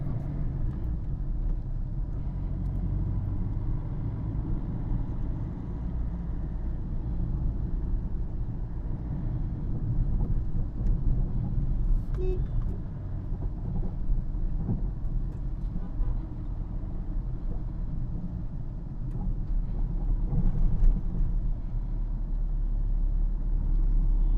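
A car drives on a road in first-person view, its engine producing a steady low rumble with road and wind noise throughout, continuous and fairly loud from inside the cabin.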